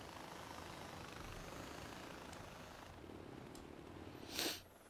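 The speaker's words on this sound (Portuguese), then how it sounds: "vamos aterrar o helicóptero aqui" Helicopter rotor noise in Far Cry 4 as the aircraft sets down, a steady low whirring drone throughout with a brief louder swell near the end.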